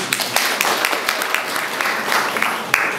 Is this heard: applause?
yes